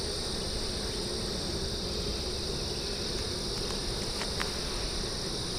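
Honey bees working on hive frames, cleaning cells and loading nectar, a dense continuous buzzing hum that stays steady throughout with no voices.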